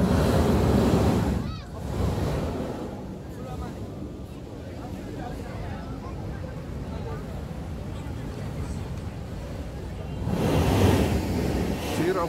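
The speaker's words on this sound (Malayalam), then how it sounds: "ആ തിര ഇങ്ങോട്ട് വരുന്നതനുസരിച്ച് അതിപരമായ ഭയങ്കരമായ സൗണ്ടാണ്." Sea waves surge and roar through a rocky blowhole at Salalah on the Omani coast, a loud, continuous rushing with two heavier bursts near the start and end, buffeted by wind noise on the microphone.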